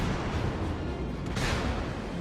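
Naval gunfire from an enemy battleship in World of Warships: a dull, distant boom rolls over steady engine and sea rumble, with one burst of louder blast noise midway through.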